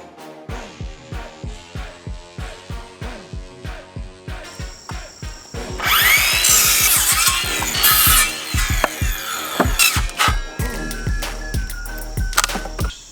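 Wooden stands being cut apart outdoors, with a steady rhythmic run of saw strokes that shifts into a louder, harsher, continuous cutting stretch and then a few closing thumps and clatters.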